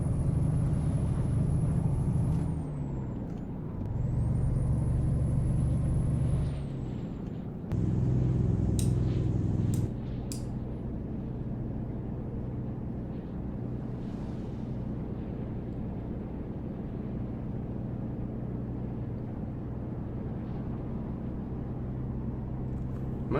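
Truck driving in the game American Truck Simulator: a steady low engine drone runs throughout, with a few brief rising whines and changes in engine note early on, and no talking.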